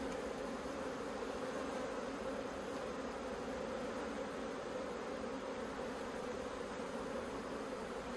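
Honey bees at an open hive give a soft, even, continuous buzz. It stays faint and steady throughout, with no voices.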